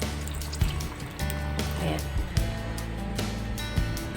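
Water pours and splashes into a cooking pot for kare-kare with a steady liquid rush, broken by a few soft clunks, while someone talks over it.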